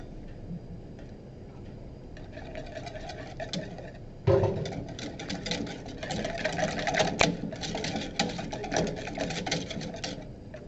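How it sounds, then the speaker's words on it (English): A whisk rattles quickly against a pot as mustard powder is beaten into mac and cheese, a fast ticking clatter that grows louder and busier after a brief bump midway. "I think I might use my whisk. Just kind of whisk that powder in really quick."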